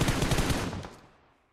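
Rapid automatic gunfire in the PUBG Mobile game, a loud close burst of repeated shots lasting under a second before tailing off into a fading echo.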